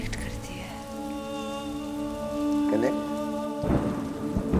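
Rain falls steadily in a soft, constant wash beneath a sustained tonal music bed, while a voice speaks briefly near the end.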